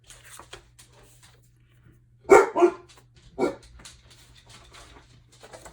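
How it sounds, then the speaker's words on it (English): A dog barks a few times at close range amid quiet indoor background noise, with a pause between the barks. "Boop, dog. Come here, Boop."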